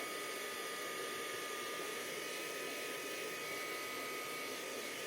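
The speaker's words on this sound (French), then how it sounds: "je viens chercher mon gun sur la petite vitesse. Et je viens la sécher." A heat gun running on its low speed setting dries a wet paper poinsettia craft, a faint, even airflow hiss with a thin steady whine, continuous and alone.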